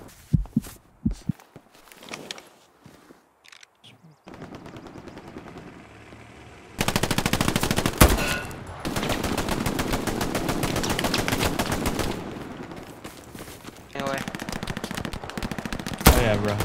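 Rapid bursts of submachine gun fire in the Hell Let Loose war game, loud and close, with long sustained strings of shots broken by short pauses and scattered single shots, mixed with game ambience.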